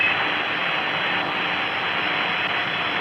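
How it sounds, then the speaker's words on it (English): Apollo 11 Saturn V rocket engines at ignition and thrust, a steady, dense roar holding at constant loudness throughout, with no voices over it. "We confirm ignition, and the thrust is go."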